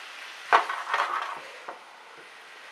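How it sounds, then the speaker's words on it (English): Mushrooms sautéing in melting garlic butter give a quiet, steady sizzle, with a few clinks of a utensil stirring in the pan near the start and then a low hiss. "You can hear the sizzle. It's just starting to cook."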